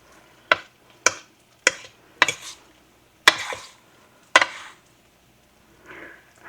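A cornstarch mixture is stirred in a mixing bowl, a spoon striking the bowl's side in about six sharp, separate knocks with short scraping tails and quiet gaps between them.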